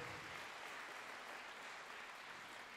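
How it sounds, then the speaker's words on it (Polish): Continuous applause for scholarship students at a Polish Independence Day commemoration in Lipusz, a dense, even wash of clapping from a seated crowd with no break. "Gratulacje i oklaski dla naszych stypendystów."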